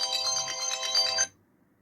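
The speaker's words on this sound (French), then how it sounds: "le téléphone qui sonne à ce moment-là," A telephone rings indoors in a crafting room with a bright electronic ringtone, steady trilling pulses, then stops abruptly near the end, leaving quiet, no talking.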